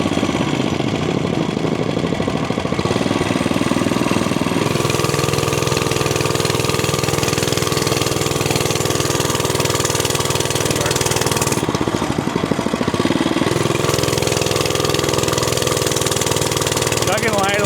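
A vintage motorcycle engine at a swap meet camping area chugs along steadily like a tractor, loud and close, with a brief dip in revs partway through; a voice talks over it.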